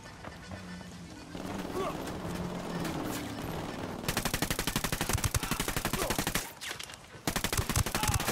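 Rapid automatic gunfire from the video game Tom Clancy's Ghost Recon, fast rhythmic bursts broken by short pauses over a rumbling game background, with a voice talking over it.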